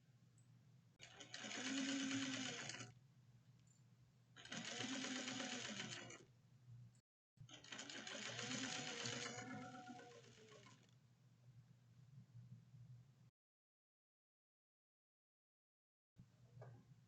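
A sewing machine stitches a fabric seam allowance in three steady whirring runs, close and clear with short stops between, then falls silent before starting again briefly.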